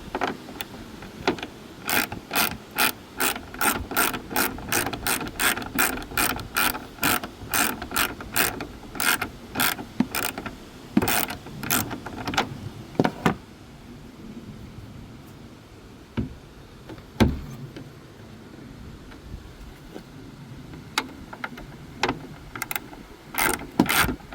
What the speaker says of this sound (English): just loosen up the two nuts on the underside of the hood hinges